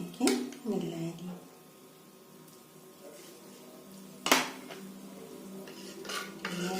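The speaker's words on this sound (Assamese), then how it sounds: "ইয়াতে মই টেবুল চামুচেৰে 2 চামুচ দৈ এনেকৈ মিলাই দিম।" A tablespoon mixes curd (yogurt) in a bowl for sweet mitha doi: a few close metallic clinks and scrapes with quiet stretches between, under a speaking voice.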